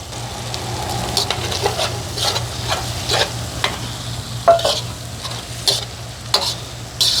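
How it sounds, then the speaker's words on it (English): A spoon stirs flour into hot fat sizzling in a pan for Army-style SOS, a steady frying hiss under repeated scraping strokes, close and without talk. "We're going to add a little bit of that flour, mix it up."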